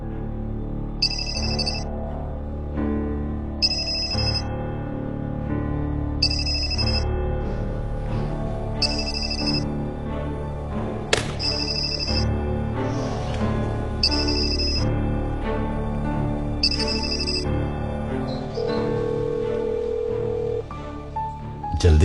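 A mobile phone rings in a repeating pattern of short bursts, about seven evenly spaced rings over a dramatic music score in a Turkish drama scene, no voices.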